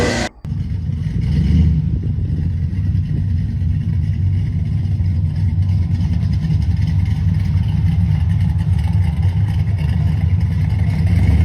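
Muscle car launching hard at a street drag race, a loud continuous roaring engine with rough, heavy rumble that holds steady after a sharp start, no talk over it.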